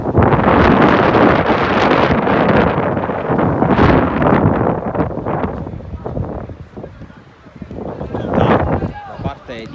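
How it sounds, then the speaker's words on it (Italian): Strong wind buffets the microphone at an under-19 football match in Sicily. A steady, heavy roar of gusts eases briefly and then surges again, with a commentator's voice talking over it. "c'è un vento che cambia le traiettorie e alza anche dei gran polveroni letteralmente dal campo del Boncore."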